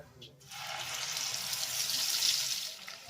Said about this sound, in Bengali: সেই সঙ্গে অ্যাড করব মশলার বাটি ধোয়া জল সামান্য একটু